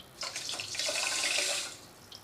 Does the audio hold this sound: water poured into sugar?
yes